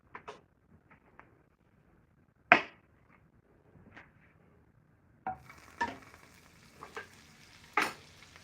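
Butter sizzles in a pan under lowered heat while a crepe cooks, with scattered faint crackles and a few sharper clinks of a utensil against the pan, growing busier toward the end.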